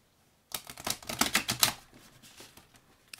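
A deck of oracle cards being shuffled poker-style, giving a quick riffling flutter of cards that lasts about a second and then trails off into softer shuffling, close and quiet.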